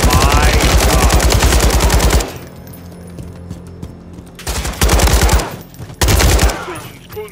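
An LMG machine gun firing in the MW3 campaign, long rapid bursts of loud automatic gunfire separated by quieter gaps, close and dominant, with several shorter bursts toward the end.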